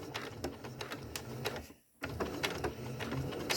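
A sewing machine stitches a buttonhole by hand-guided sewing without a buttonholer, a rapid, even mechanical chatter that stops briefly near the middle and then resumes, close and fairly quiet.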